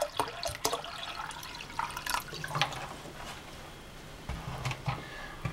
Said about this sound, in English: I'm adding around 3 cups of water and later on it can be adjusted as well.